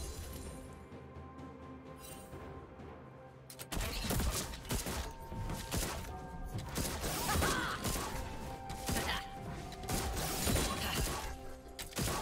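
A turret being destroyed in the League of Legends video game: after a quiet start, a sudden loud crash breaks into a dense burst of shattering, crumbling and clattering impacts that carries on busily to the end.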